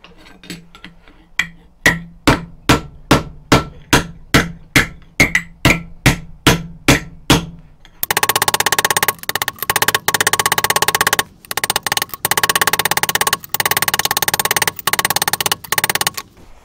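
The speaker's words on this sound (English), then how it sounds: "start trying to flatten this out" Repeated metal hammer blows flatten a spear head on an anvil, about a dozen sharp evenly spaced strikes, then a harsher continuous stretch of loud rapid pounding and grinding-like impacts.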